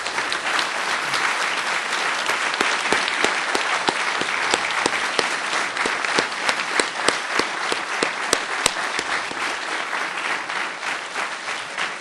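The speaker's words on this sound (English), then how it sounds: "if we could give them a round of applause as well for all their hard work" A graduation audience at a mathematics ceremony gives sustained, loud applause for thesis advisors, the dense clapping running evenly throughout with sharp individual claps standing out from the crowd.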